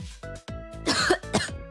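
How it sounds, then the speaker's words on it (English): A person coughs and clears their throat in a quick series of sharp, close, loud bursts, with short gaps between them and no talking. "Why am I coughing?"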